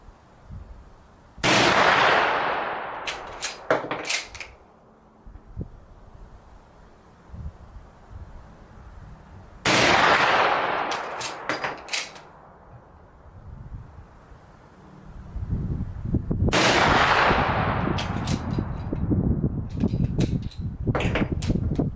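An RTI Vetterli 10.4x47 rifle fires three loud, sharp shots of hand-loaded cartridges several seconds apart, each booming and echoing as it decays. Metallic clacks of the action being worked follow each shot, and a rumbling background rises toward the end.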